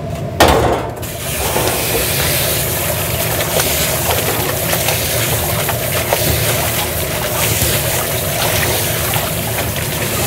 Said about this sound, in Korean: 면이 이제 서로 혹시 이제 붙어 있을 수 있으니까 그냥 씻어주시면 돼요